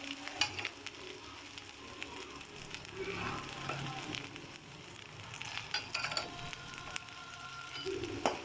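Whole cinnamon, fennel seeds, cardamom and cloves sautéing in hot oil for a chickpea curry, giving a steady close crackling sizzle with scattered sharper pops throughout.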